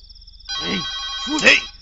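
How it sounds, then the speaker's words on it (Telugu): A telephone rings nearby in two short electronic bursts over a faint steady tone, with a voice briefly audible. "ఫోన్ రింగ్ అవుతుందిరా"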